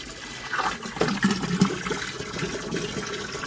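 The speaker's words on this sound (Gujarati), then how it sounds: "નળ અત્યારે નળ આવ્યા છે તો આપણે પાણી ભરીએ છીએ" Water runs steadily from a tap, a soft continuous splashing and trickling with small fluctuations, fairly quiet and without voices.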